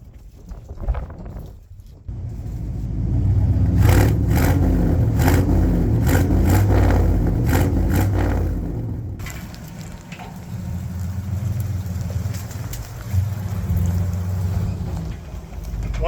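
A 1972 Ford F750 Super Pickup truck engine runs after tuning, loud and close with rising revs and rapid ticking, then settling into a steadier, quieter idle rumble.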